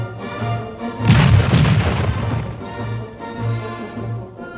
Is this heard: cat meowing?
no